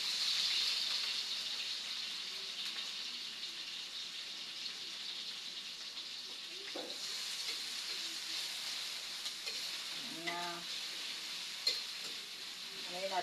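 Garlic, onion, tomato and ginger sauté in a pan with a soft, continuous sizzle and hiss. Occasional stirring scrapes and knocks come through, all fairly quiet.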